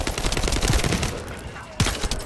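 Rapid submachine gun fire in the video game The First Descendant, dense continuous bursts of close, loud shots that stop briefly and then resume near the end.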